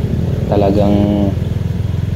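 A small motorcycle engine idles at a stoplight with a steady low rumble, while someone speaks briefly over it in the middle of the clip.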